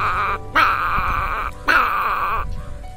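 A human voice imitates a small puppy whimpering in cold weather, two long whiny tonal cries, close and fairly loud, with a short breath-like pause between them.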